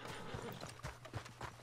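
Horse hooves clip-clopping at a steady riding gait in the Western video game Red Dead Online, the rhythmic thuds repeating evenly over a continuous background hum with no talking.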